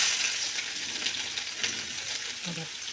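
Garlic and peanuts sizzle steadily in hot oil, a dense close frying hiss with faint stirring scrapes and a brief low clatter near the end.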